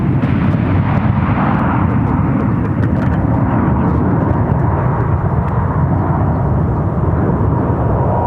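A Boeing 737 MAX 8 arriving from Chicago Midway lands on runway 12 right at Minneapolis–St. Paul airport, its heavy jet roar loud, close and continuous for the whole stretch.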